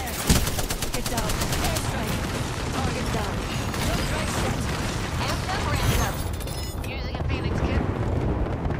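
Gunfire in the battle royale game Apex Legends: dense, continuous bursts of rapid shots and impacts layered over each other, loud and sustained across the whole stretch.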